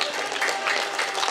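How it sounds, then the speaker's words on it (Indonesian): A crowd at a university reception applauds for an official named Pak Firdaus, a brief steady burst of many hands clapping at moderate, fairly distant level. "Tepuk tangan untuk Pak Firdaus."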